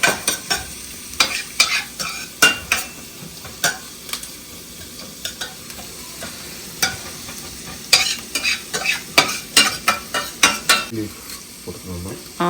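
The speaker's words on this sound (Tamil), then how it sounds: "இது லைட்டாக வதக்கவாப்பா. ஸோ இது அப்படியே இதில் ஆட் பண்ணிவிட்டு குக் பண்ணிடணுமா?" Food is lightly sautéed in a home kitchen pan while cooking chicken tandoori, with soft sizzling under repeated rhythmic scrapes and stirs of a utensil against the pan, close and fairly loud throughout.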